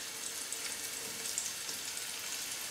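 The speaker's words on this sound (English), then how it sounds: "just frying this beef off for about 3 or 4 minutes." Steady, bright sizzling and crackling of beef frying in a hot pan, continuous and close, with no voices.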